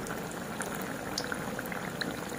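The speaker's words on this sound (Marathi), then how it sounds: "आपल्या या मिरच्या ज्या आहेत त्या छानपैकी फ्राय झालेल्या आहेत" Stuffed chillies for Rajasthani-style mirchi pakoda fry in hot oil, giving a dense, even bubbling and crackle that runs throughout with no voices.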